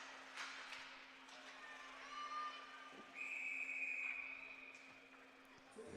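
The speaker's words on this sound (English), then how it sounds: "And a whistle with 9:13 left to go in the third for a high stick." A referee's whistle at a women's NCAA ice hockey game, called for a high stick late in the third period, blows a sustained shrill tone for about a second over steady arena crowd noise.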